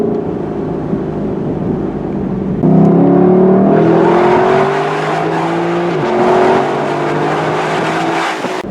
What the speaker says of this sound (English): I'm more interested in hearing the exhaust at the moment